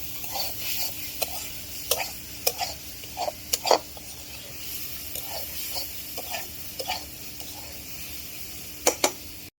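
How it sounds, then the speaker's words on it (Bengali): Cauliflower stir-fry is turned in a pan, giving soft, irregular scraping strokes over a faint, steady sizzle. A few sharper clinks stand out near the end. "একটু নাড়া দিয়ে দিব এখনো হয় নাই"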